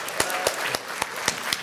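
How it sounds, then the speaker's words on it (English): At a live GamesMaster stage show, an audience gives a round of applause: a few sharp, distinct claps stand out in a loose rhythm over a steady wash of crowd clapping. "give you a massive round of applause"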